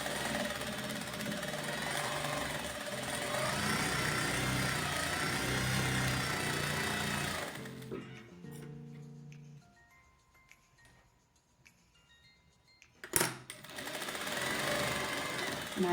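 Sewing machine stitching the hem of a cotton dish towel, running steadily and fairly close for about eight seconds, then stopping; a few soft handling clicks follow before a sharp knock and the motor starts again.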